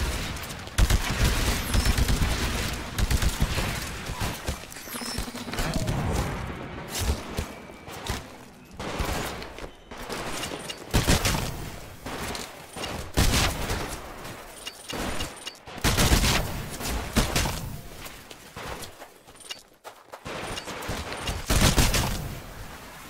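Bursts of automatic gunfire and rapid shots from a live fire training exercise in the Titanfall video game, loud and close, coming in clustered volleys with short pauses between them.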